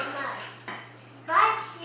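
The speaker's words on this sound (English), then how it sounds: "And we're going to stir it up." A utensil clinks and scrapes against a pot as butter is stirred in while cooking, two short bursts of metallic clatter close by.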